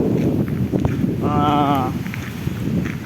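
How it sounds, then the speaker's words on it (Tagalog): Strong coastal wind buffets and rumbles across the microphone, loud and steady throughout, with a brief tonal whine partway through. "grabe lakas ng hangin"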